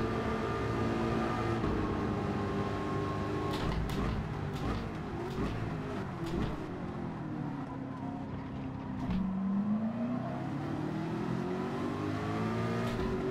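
A Porsche race car in the Gran Turismo racing game whines through the gears, its engine pitch climbing and dropping as it brakes and accelerates around corners, at moderate level with a few sharp bumps and no talking.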